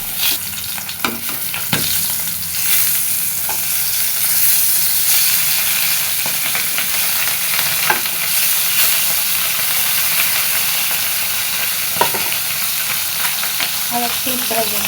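Fish fries in a hot pan with a continuous, loud sizzle and hiss, broken now and then by soft clinks and scrapes of a utensil, next to a pot of khichuri on the stove.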